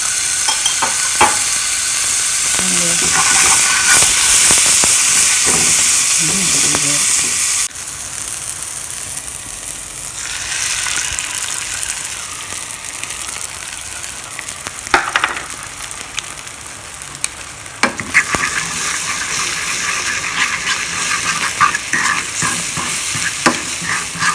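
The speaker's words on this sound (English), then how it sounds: "Some bacon grease. And I'm about to add some garlic." Garlic frying in bacon grease on a stovetop, a steady loud sizzle that drops in level partway through and carries on with occasional clinks and stirring scrapes.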